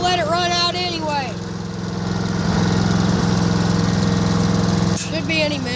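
A small engine idles steadily on the last gas left in its carburetor, a continuous low droning hum that runs through the whole stretch while someone talks over it near the start and end.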